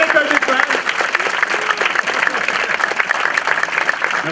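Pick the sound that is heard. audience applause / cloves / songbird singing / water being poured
audience applause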